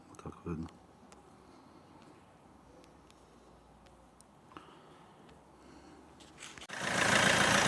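An Opel Astra J 1.7 CDTI diesel engine with a heavy crankcase breather blow-by fault idles with a steady low rumble under background noise, a brief thump early on, and a sudden loud whooshing surge near the end.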